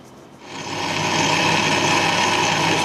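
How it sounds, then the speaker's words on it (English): A drill boring through a cast iron pulley whirs at a steady high pitch, grinding continuously after a brief quiet start, loud and close with no talking. "In fact, I can put a drill through it."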